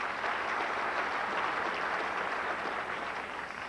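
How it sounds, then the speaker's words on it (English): Audience at a 2001 university commencement applauding, a steady dense wash of clapping that holds evenly throughout and tapers slightly at the end. "So give him a round of applause, please."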